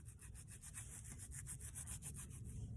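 Fingers rubbing back and forth over rough wig lace, a quiet, close scratchy rasp in quick repeated strokes with no talking.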